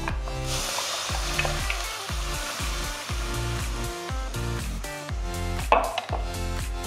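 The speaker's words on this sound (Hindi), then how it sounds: "इसको अब हम भून के गाढ़ा कर लेंगे।" Raw mango paste fries with asafoetida in a pan, giving a steady, close sizzle that runs the whole time beneath rhythmic background music, with a brief sharper clatter near the end.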